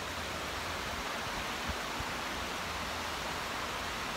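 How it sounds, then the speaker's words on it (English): River water rushing over rocks in Newfoundland, a broad, even hiss that stays loud and constant throughout with no voices. "Do you hear the water? I love the sound of running water."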